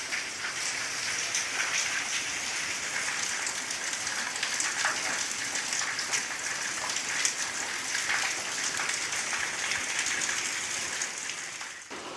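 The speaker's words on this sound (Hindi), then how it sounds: "लगातार यहाँ पर बारिश हो रही है और 15 मिनट या 10 मिनट भी बारिश रुकी नहीं है।" Continuous steady rain falls without pause, a dense even hiss of drops pattering on surfaces that holds at the same level throughout, with no voices.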